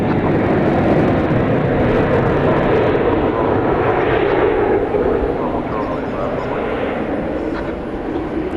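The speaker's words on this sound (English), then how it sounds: "our next contestant is going to be American Flight 1446 to Spokane," At night at DFW, an American Airlines Airbus A321 bound for Spokane produces a sustained heavy jet rumble that swells and then eases slightly toward the end, with people talking over it.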